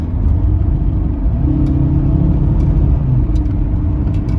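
A Toyota Camry with an automatic transmission and about 250,000 miles on it, heard from inside while driving: a steady, loud engine drone and road rumble with a smooth change in engine pitch partway through.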